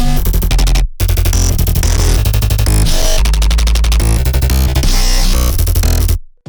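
Serum bass patches heavily processed with vocal-style effects and OTT compression play a loud, dense, gritty run of alternating swoops, cut by a brief silence near the start and ending abruptly.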